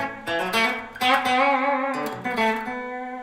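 A clean electric guitar played through an amp with the overdrive pedal switched off, strummed chords ringing out clearly and evenly at moderate loudness with no one talking.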